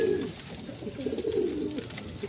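A racing pigeon coos in low, soft, throaty rolls that repeat close by over a steady background hiss.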